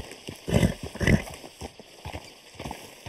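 A horse's hooves clip-clop in the video game RedM, a few uneven steps at moderate distance with nobody speaking over them.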